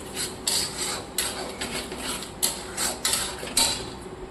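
Cauliflower curry being stirred and sautéed in a pan, with a metal spoon scraping and rasping against the pan in irregular strokes and occasional sharper clinks, close and fairly loud with no talking.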